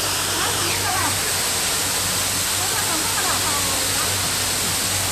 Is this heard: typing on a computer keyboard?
no